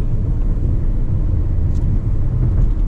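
Kia Seltos with a DCT gearbox cruising in fifth gear: a loud, steady low rumble of engine and road noise inside the cabin, unbroken for the whole stretch, with nobody talking.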